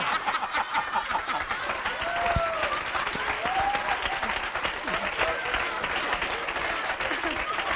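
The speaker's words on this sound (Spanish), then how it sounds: "¡Aplausos!" A studio audience claps in a steady burst of applause, with a few short tonal sounds and a scattered chuckle or two mixed into the crowd noise.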